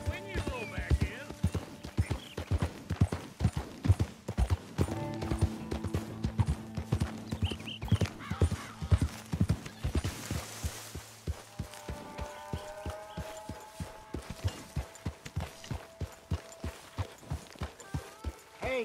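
Horse hooves clip-clop in Red Dead Redemption 2, a brisk, regular beat of hoofbeats close by that slows and resumes, with occasional whinnies, music and voices talking over it.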